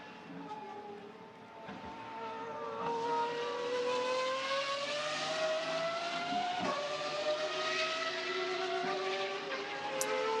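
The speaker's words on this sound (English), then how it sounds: "Huayra roaring its way around the circuit" A Pagani Huayra race car roars around the Nürburgring circuit, its engine note sweeping upward through gears as it passes, loud and sustained, with a commentator's voice faintly present.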